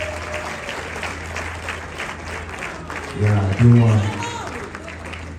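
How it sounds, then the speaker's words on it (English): An audience gives a round of applause for a comedian at a live event, the clapping swelling to a loud burst under a nearby speaker's voice, which keeps talking throughout. "A round of applause for him."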